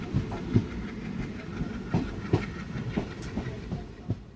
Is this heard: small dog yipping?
no